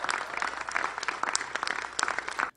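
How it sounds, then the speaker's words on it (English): An audience at a tech announcement breaks into applause, a crowded patter of many clapping hands that stays fairly even and moderately distant, then cuts off abruptly near the end. "they're applauding because he's announcing the thing"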